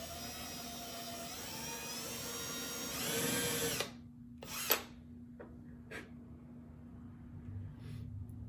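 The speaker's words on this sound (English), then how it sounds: "That's going to give me a place to start my drill bit and hopefully keep it straight-ish." A power drill whines steadily into a broken wooden table leg for nearly four seconds, then stops, leaving a low hum and a few faint knocks and clicks.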